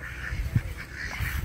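Ducks in a pen beside a swimming pond give off soft, scattered quacks and honks, with one brief louder call standing out against a steady low outdoor rumble.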